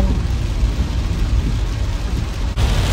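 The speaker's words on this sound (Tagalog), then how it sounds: "Grabe ang lakas ng ulan." Heavy rain drums on a moving car during a road trip in Bamban, Tarlac, a loud, dense, continuous wash with road rumble underneath that drops briefly near the end.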